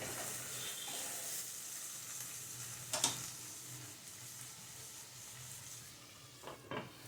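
Chopped banana stem (thor) frying over medium heat in a covered pan, a steady soft sizzle throughout with a couple of brief clatters of the lid or spatula, no voices.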